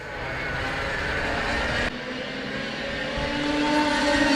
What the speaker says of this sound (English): Dunkerswell roars back into life here with the scream of these old